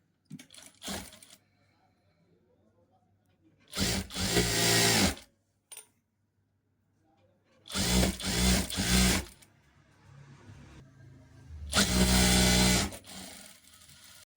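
A sewing machine stitches a fabric band folded to one inch wide in three short rapid bursts of mechanical chatter separated by quiet pauses, close and clear, with no voices.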